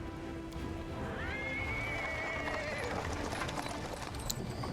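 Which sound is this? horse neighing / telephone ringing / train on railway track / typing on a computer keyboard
horse neighing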